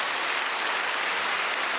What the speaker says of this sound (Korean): 우리 서로 감사하고 축하하고 격려하는 박수를 서로를 위해서 한번